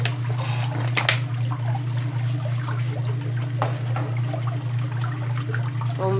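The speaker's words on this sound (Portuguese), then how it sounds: "E agora eu vou derramar aquela mistura toda aqui dentro" A liquid soap mixture being poured into a container for a large batch of homemade liquid soap: a continuous close gush and trickle of liquid over a steady low hum, with no voices.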